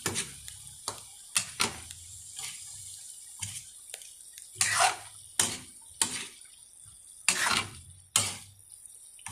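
Adobo with vinegar being stirred in a pan, making a series of irregular scraping and clattering strokes, close and fairly quiet, with no talking.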